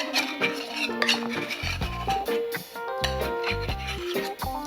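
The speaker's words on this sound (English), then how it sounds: "So we're gonna add a full and a 1/2 cup of sour cream." Spoon scraping and clinking against a mixing bowl as thick sour cream is scooped in, with bright ringing taps and shuffling, no talking.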